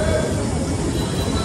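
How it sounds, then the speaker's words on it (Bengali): A train passing in the evening: a loud, close, steady rumble of wheels and cars that fills the whole short stretch, with some voice activity underneath. "ট্রেন দেখবে বলে দাঁড়িয়ে আছে"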